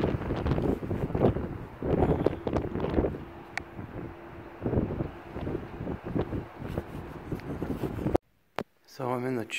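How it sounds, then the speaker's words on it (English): Strong wind at Shandon Tower in Cork City, Ireland, buffets the microphone in loud, gusty rumbling bursts, then cuts off briefly before a voice speaks at the end. "Very windy."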